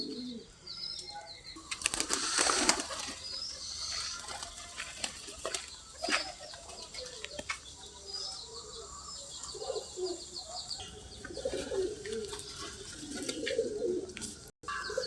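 Pigeons, including newly acquired plain domestic birds, in flying training: repeated wing flaps and flutters with soft cooing and occasional chirps, some bursts close and loud, others farther off, no talking.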